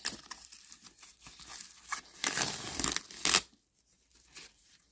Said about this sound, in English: And I will unwrap the handles.